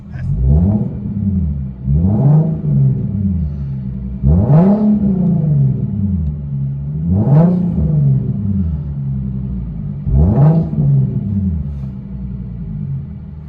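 An Infiniti Q60 S coupe's 3.7L V6 with a straight-pipe exhaust revving five times in even succession, each loud rise to a sharp raspy peak falling back to a deep idle rumble between, close and with no talking.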